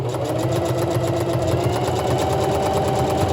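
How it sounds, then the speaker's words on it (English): A sewing machine stitches cups onto a wedding gown bodice, giving a steady, continuous mechanical whir up close for the whole stretch, with no one talking. "So now I'm just going to sew cups to the bodice."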